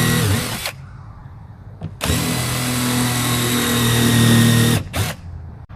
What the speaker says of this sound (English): go ahead and countersink these 3 holes